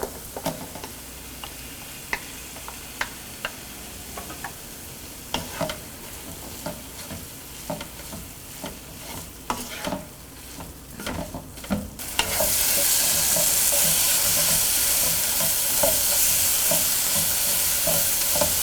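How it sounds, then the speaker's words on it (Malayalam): Cut tomato sautéed into masala in a pan for duck peralan curry, soft rhythmic spoon scrapes over a gentle sizzle that swells into a loud, steady hiss about two-thirds of the way through. "ഇതിലോട്ടിനി നമ്മൾ കട്ട് ചെയ്ത് വെച്ചിരിക്കുന്ന ടൊമാറ്റോ ഇട്ട് വഴറ്റുക."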